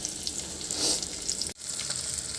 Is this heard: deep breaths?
no